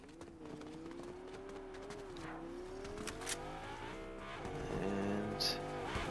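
A damaged car in the Fortnite video game drives steadily with a rising and falling engine whine, growing a little louder toward the end amid scattered clatter.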